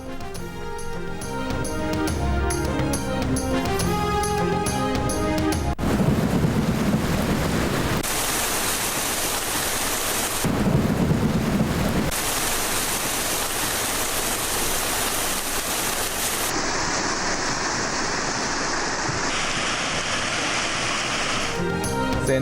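Heavy rain and rolling thunder during flooding in rural Sindh, Punjab and Balochistan, a dense continuous roar of downpour with rumbling bursts, loud and steady, cut between several shots with music at the start.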